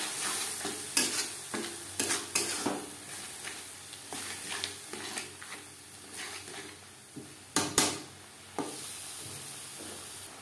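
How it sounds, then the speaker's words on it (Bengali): Spice paste sautés in a pan over a medium flame for a fish curry, a constant sizzle punctuated by frequent sharp scrapes and knocks of a spatula, a couple louder clatters near the end. "চার 5 মিনিট মিডিয়াম ফ্লেমে মশলা বেশ ভালো করে কষিয়ে নেব।"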